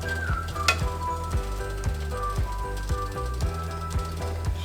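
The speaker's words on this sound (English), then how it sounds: "Your tongs. Start moving that stuff around up in there." Ramen noodles sizzle steadily in a hot pan with black pepper while metal tongs stir them, giving a close, continuous frying hiss broken by regular light clinks and scrapes.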